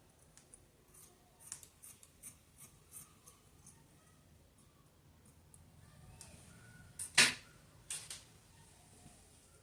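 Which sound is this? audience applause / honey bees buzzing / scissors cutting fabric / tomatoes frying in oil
scissors cutting fabric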